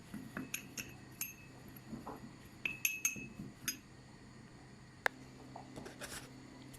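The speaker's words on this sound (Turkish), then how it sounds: "Böyle iyice karıştırıyorum." Bread cubes seasoned with black pepper and basil are stirred in a bowl, giving a series of light clinks and scrapes of a utensil against the dish, quiet and irregular.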